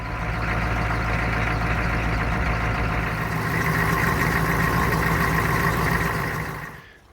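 An old bus engine, started for the first time this year after a battery replacement, runs at a steady loud idle with a low throbbing rumble and engine hum, then cuts off near the end.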